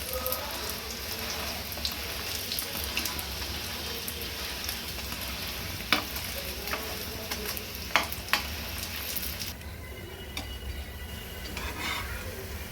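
Chicken moghlai paratha frying in a pan, pressed down with a spatula after flipping: a dense, continuous oily sizzle like heavy rain, with occasional sharp taps and scrapes of the utensil; no one speaks.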